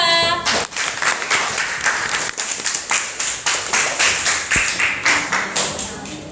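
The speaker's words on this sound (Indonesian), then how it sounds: "tepuk tangan untuk kelompok 2" Students clapping together in a classroom for a group after its presentation, a dense burst of many hands that holds steady for several seconds before tapering off.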